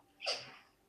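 A single short, sharp dog sneeze, close and fairly quiet, with a breathy burst that fades quickly.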